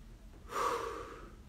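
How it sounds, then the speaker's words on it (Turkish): A person taking a single deep audible breath during a home exercise session, a sharp close inhale rising after a moment of quiet and then easing off. "Al nefesi."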